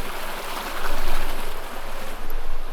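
A small creek running strong after heavy rain, a loud, close, continuous rushing of water with gentle surges and no talking.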